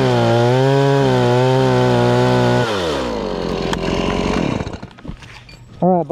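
A chainsaw cuts tree limbs high in a tree during a harnessed climb, its engine droning loud and close at a steady high idle, then bogging down and wavering as it bites through wood before cutting out, with a brief rev at the end.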